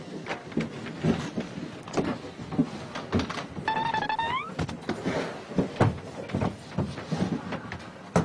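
An elevator door slides with a short rising motorized whine partway through, amid a busy, cluttered background of shuffling and knocks.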